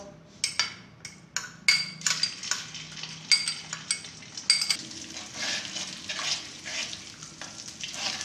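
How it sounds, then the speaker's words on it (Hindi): Ground ginger frying in about a cup of oil over medium heat in a karahi, crackling sizzle with repeated sharp scraping and stirring clinks of a utensil against the pan, close and fairly loud. "इसको हल्के हल्के भून लें, ब्राउन नहीं करना"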